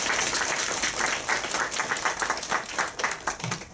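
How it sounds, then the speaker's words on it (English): An audience applauds a speaker after a basic income Q&A session, with steady, full clapping from many people that stays loud and even throughout. "give a round of applause for Mr. Schmidt"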